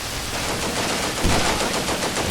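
A Vickers machine gun fires in the game Combat Mission Beyond Overlord: a dense, continuous rattling roar, loud and steady for about two seconds, with no talk.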